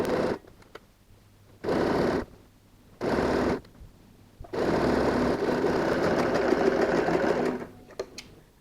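A sewing machine edge-stitches folded bias binding on fabric for a DIY laptop case, running in two short bursts and then one long steady whir, close and alone.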